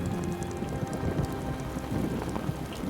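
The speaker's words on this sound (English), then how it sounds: "Once it started raining" Steady heavy rain pattering on surfaces in New Zealand's Southern Alps, a dense continuous hiss with scattered drops, moderately loud and unbroken.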